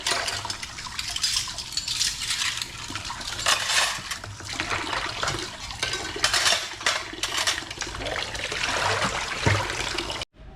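Dishes are washed under running water in a boarding house kitchen: water splashes steadily while plates and cutlery clink and scrape, close and fairly loud, with no voices.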